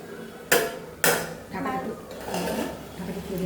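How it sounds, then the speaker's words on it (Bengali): Vegetables cooking in a pan without water get two loud metallic clanks as the pan is handled and covered, followed by softer stirring and scraping sounds. "শুধুমাত্র সবজিটাকে ছেড়েছি, নাড়াচাড়া করে ঢাকা দিলাম।"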